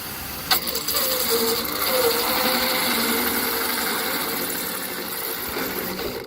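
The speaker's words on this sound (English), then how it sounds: "I'm drilling the holes in the pipe. I'm using a 3-inch hole saw for this" A drill with a 3-inch hole saw bites into plastic pipe, a loud steady whirring grind that holds for several seconds after a sharp start, close and continuous, no speech.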